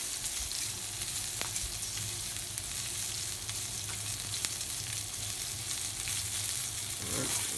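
Steak searing in a hot pan during a reverse sear, giving a steady close sizzle and frying hiss with a few faint pops and brief stirring or handling noises, no talk.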